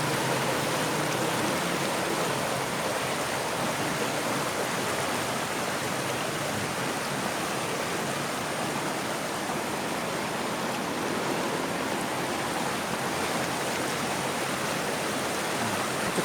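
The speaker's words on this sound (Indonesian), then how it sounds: "ini kita lebih dekat lagi kita lihat derasnya air." Fast-flowing, clear river water rushing at the Bedeng Aek Songsongan nature spot in Asahan, a loud, steady, dense roar of current with no pauses throughout.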